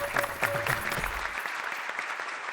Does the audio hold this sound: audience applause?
yes